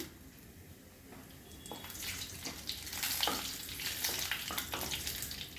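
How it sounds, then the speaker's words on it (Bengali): Cumin, cinnamon, cardamom and bay leaves crackle and sizzle in hot oil in a home kitchen, a close, steady hiss with scattered pops and stirring clicks that grows slightly louder midway. "জিরে, দারচিনি আর দুটো এলাচ ফোড়ন করলাম, দুটো তেজপাতা দিয়ে দিলাম।"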